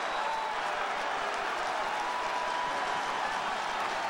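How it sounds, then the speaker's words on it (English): The crowd at a Cubs baseball game at Wrigley Field against the Padres gives steady, sustained cheering and applause that stays at an even, distant wash throughout, with no break. "in this case, they're cheering because they're walking Rizzo to get to Bryant"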